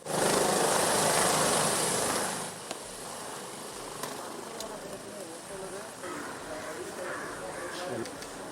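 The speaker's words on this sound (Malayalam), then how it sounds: "എം.എ. യൂസഫ് അലി അവിടെ നിന്ന് ഹെലികോപ്റ്ററിൽ നാട്ടികയിലെത്തി വോട്ട് ചെയ്തു." A helicopter roars loud and steady for a couple of seconds, then fades to a lower, more distant drone while a narrator's voice continues over it.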